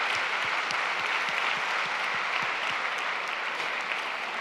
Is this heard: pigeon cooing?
no